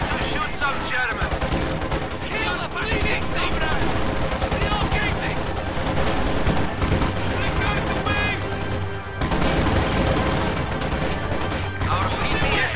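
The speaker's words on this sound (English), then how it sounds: "Time to shoot some Germans." Dense gunfire from the WWII strategy game Company of Heroes 2 on a Soviet side: continuous rifle and machine-gun bursts with scattered blasts, loud and unbroken, under intermittent game voice lines.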